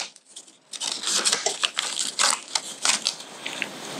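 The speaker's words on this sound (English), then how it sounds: "Go ahead and rip the transfer off." Sublimation transfer paper is torn away from a hot mug fresh out of a Geo Knight double mug press, a close run of dry crackling rips and crinkles lasting a few seconds after a brief quiet start.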